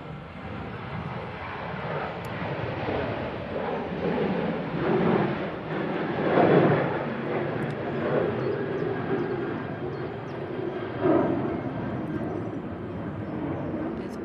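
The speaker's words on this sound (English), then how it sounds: "So the TUI from Melbourne, Florida, just turning on to finals now." A TUI airliner from Melbourne, Florida turns onto final approach at Manchester Airport in storm crosswinds, a steady distant jet rumble with broadband roar that swells slightly midway, no clear talk.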